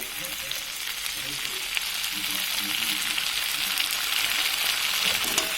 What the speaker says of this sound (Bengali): মাংসটা কিছুক্ষণ ধরে কষে নিয়ে গিয়ে মাংস থেকে তেল ছাড়তেও শুরু করেছে